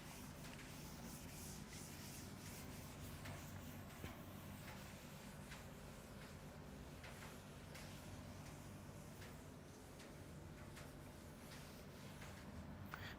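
Duster rubbing chalk writing off a classroom board, a soft continuous scrubbing with faint repeated strokes, quiet and close.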